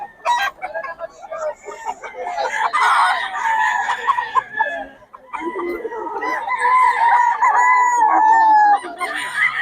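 Gamecock stag roosters crow loudly and close by in repeated drawn-out calls, mixed with clucking from other fowl.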